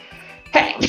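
A single sharp sneeze bursts out close to the microphone after a quiet breathy intake.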